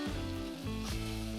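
Chicken breast frying on medium heat in a pan gives a close, steady crackling sizzle that runs throughout, with a faint background tone and no talking.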